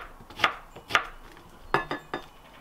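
A knife cuts food into thin slices, producing several crisp, distinct chops against a board in an uneven rhythm, close and fairly clear with quiet pauses between strokes.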